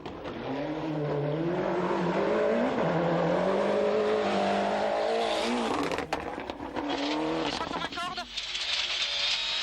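A 1995 Ford World Rally Championship car limping along on three wheels, its engine droning loudly and wavering in pitch as it labours, then a burst of clattering, scraping noise and a rougher, higher roar near the end.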